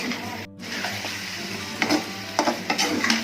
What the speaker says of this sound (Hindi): अब इसको अच्छी तरह फ्राई करना है